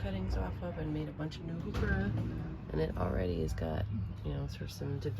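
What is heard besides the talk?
No distinct noise like a dog, phone or traffic.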